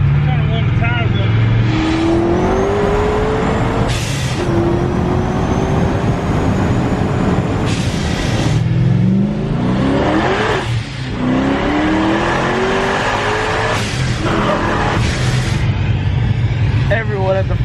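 Over-1000-horsepower Corvette Z06 heard from inside, engine revving and surging through repeated gear changes with sharp bursts between pulls, loud and close, with occasional voices underneath.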